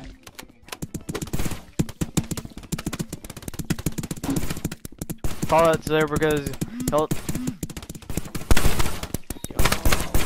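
A video game gun fires repeated sharp bursts throughout, loud and close, with a person talking over the shots for a moment in the middle.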